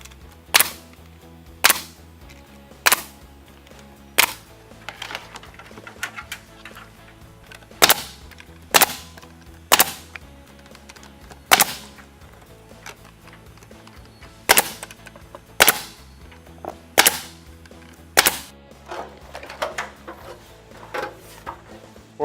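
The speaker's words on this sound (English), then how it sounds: "then we're going to start our nailing process. We're going to nail every 6 inches on center." Diamond Kote board-and-batten siding panels being nailed every 6 inches, giving sharp single pneumatic nail gun shots, loud and close, spaced one to two seconds apart with no talk.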